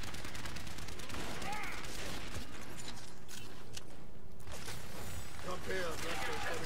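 Automated turret gunfire rattles in rapid bursts during a hectic Overwatch match, mixed with game sound effects and shouted voices over the action.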